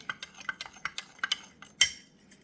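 A liquid casting mixture being stirred quickly in a small container, a run of light rapid taps and scrapes of the stirrer against the sides, close and fairly quiet, with no speech.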